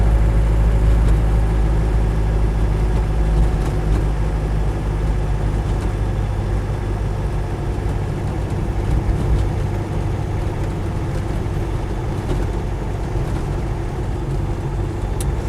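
Land Rover 110 station wagon with a 2.5 turbo-diesel engine on the move, a steady low diesel drone heard from inside the cab, constant and loud throughout.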